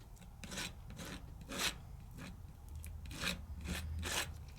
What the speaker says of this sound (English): I'm just going to scrape this all up and just keep pushing it in until I've got it all gone.